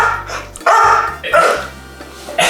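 A dog adopted from the pound barks in several loud, sharp bursts with short gaps between them, close to the microphone and with no talking over it.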